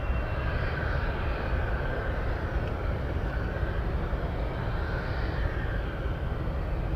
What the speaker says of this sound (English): that is an aborted takeoff on LA flights